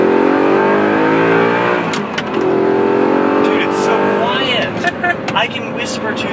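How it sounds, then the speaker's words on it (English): A supercar on its stock exhaust pulls hard in second gear from about 25 mph: the engine note climbs loudly, drops briefly at a shift, then surges again, close up inside the car. "I'm rev matching and flooring it."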